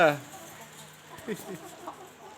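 Chickens in a coop give short clucks and a brief squawk at the start, then scattered soft clucking at close range, faint under low background noise.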